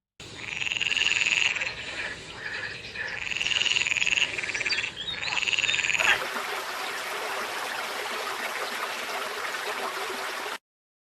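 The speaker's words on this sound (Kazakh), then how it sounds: "Бұл жасыл құрбақа." A green frog croaking in repeated loud, rhythmic bursts for about six seconds, close and prominent, followed by steady rushing water-like noise with no croaks.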